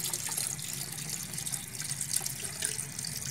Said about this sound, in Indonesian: kita tambah lagi air hijau buat pakan DM nya, kita tuang